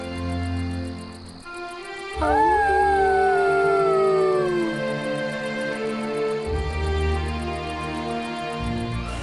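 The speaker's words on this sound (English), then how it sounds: "He and Spot looked up at the stars and howled together." Two cartoon characters from Disney Pixar's The Good Dinosaur howl together at the stars. One loud, long howl rises and slowly falls over soft background music and chirping crickets.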